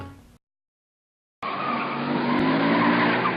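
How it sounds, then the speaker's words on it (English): Car tires screeching loudly and continuously after a brief silence, a sustained skid sound from a TV commercial. "You hear screeching tires, but you can't move."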